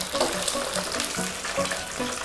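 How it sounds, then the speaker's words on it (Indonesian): Eggs frying in a hot pan for a balado dish, a steady crackling sizzle with bursts of spattering, close and continuous with no talking. "Kita perlu goreng sebentar aja teman-teman ya, sampai agak sedikit coklat-coklatan"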